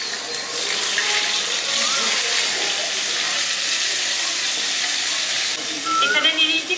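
Chunks of potato and cauliflower hit hot oil in a village-style mixed vegetable dish, giving a steady loud sizzling hiss throughout, with a voice talking briefly near the end.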